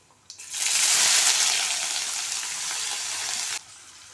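Thinly sliced large onion hits hot oil with a sudden loud sizzle that swells, then settles into a steady frying hiss for about three seconds before stopping abruptly.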